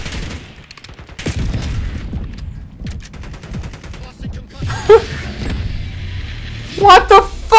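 Gunfire in the video game Call of Duty: Black Ops 6, bursts of rapid shots with sharp louder cracks near the end, close and fairly loud, with a player's voice breaking in between.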